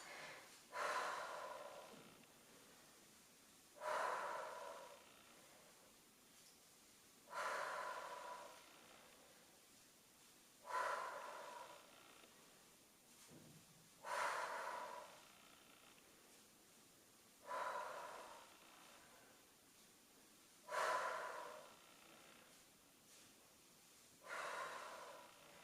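Deep, heavy breaths during a dumbbell workout of bicep curls, repeating about every three and a half seconds in a steady rhythm of eight strong exhales, close and clear with no talk.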